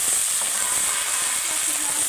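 Brinjal, flat beans and potato fry with onions and green chillies in hot oil, a loud, dense, continuous sizzle and hiss close up.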